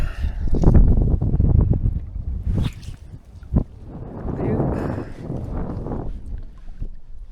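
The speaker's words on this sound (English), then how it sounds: "it's pretty windy, so I'm going to start off with the indicator." Wind gusts buffet the microphone beside a mountain lake in the High Uintas, with low rumbling bursts rising and falling, and faint sounds from the lakeside setting underneath.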